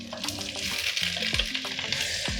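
Meat sizzles in a hot pan with a continuous crackling hiss, punctuated by a few clunks and scrapes of a utensil moving pieces around.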